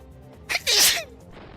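A single loud, sharp human sneeze, close and sudden with a short intake before the burst, standing out against a quiet room background.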